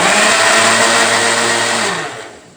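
Mixer grinder blending grated coconut into coconut milk, a loud steady high whine with motor hum that winds down over the final half second, close by.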